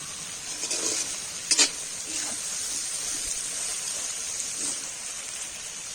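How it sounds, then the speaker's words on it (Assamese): Chicken pieces for a local chicken curry fry and get stirred in a pan, giving a steady, close hiss of sizzling fat with soft scraping and a brief sharper clatter near the start. "মাংস ভাজি আছোঁ"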